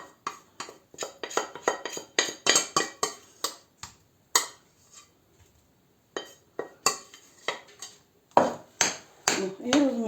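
A spoon clinks and scrapes against a bowl as a grated potato mixture with added starch is stirred, quick uneven strokes close by with a short pause midway.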